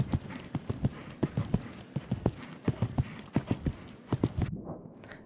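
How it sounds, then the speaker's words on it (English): A horse's hooves clip-clop in a steady, even rhythm as it enters a show jumping arena, close and clear, with faint voices in the background. "The last rider is entering the arena is Lola Rose riding Gold Moon Spaghetti"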